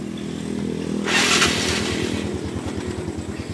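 A used motor scooter's electric starter cranks the engine while the left brake lever is held, a rising whir and clatter that settles into a steady low putter of idling, close and fairly loud with no talk.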